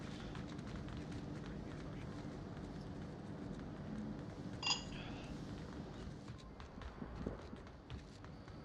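Quick running footsteps patter continuously in a VR multiplayer shooter match, a faint steady rhythm under background game noise with a few louder thuds.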